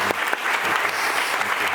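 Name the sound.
applause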